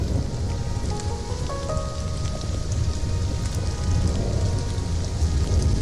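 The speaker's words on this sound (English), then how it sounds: "Oh, we got that rain." Steady, dense rainfall hisses throughout in the survival game Stranded: Alien Dawn, with a few brief tonal game chimes rising over the downpour early on.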